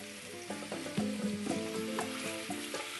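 Chicken pieces sear in a hot pan for Cuban arroz con pollo a la chorrera, giving off a steady close crackling sizzle with small stirring bumps under quiet background music and no talk.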